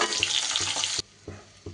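Bhangar fish frying in oil makes a bright, crackling sizzle that cuts off abruptly, leaving quieter intermittent bubbling and utensil taps.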